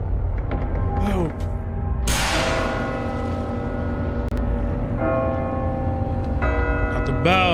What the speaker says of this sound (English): when the bell rings, it's time